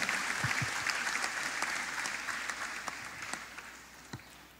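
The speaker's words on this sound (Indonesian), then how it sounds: "Tepuk tangan buat kita semua" An audience at an interfaith stage event claps steadily, a dense wash of applause that gradually fades toward the end.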